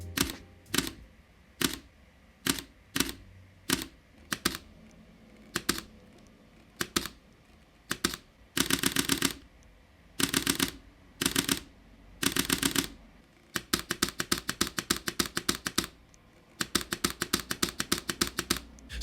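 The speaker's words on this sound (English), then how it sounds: "basically the sound of the shutter actuation, so it closing, the sound, is a lot slower" A Panasonic Lumix S5II fitted with a Canon EF lens fires its shutter repeatedly, crisp close mechanical clicks, first as single spaced shots and then as rapid bursts, with no talking.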